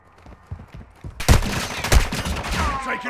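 Gunfire in Call of Duty MWII DMZ, a burst of loud close shots erupting after a second of quieter tapping, with repeated heavy reports and rattling game noise continuing to the end.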